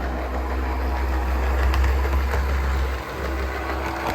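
A model train running on DC power around a track hums with a steady low motor drone and a slight grinding buzz from its gears, close and continuous, dipping briefly near the end.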